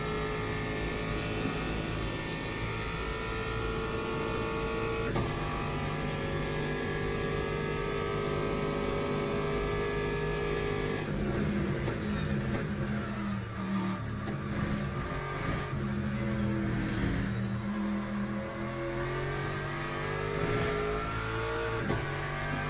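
Aston Martin race car in the Le Mans Ultimate racing game, engine droning continuously with shifting pitch as it accelerates and changes gear, steady and prominent with no talking.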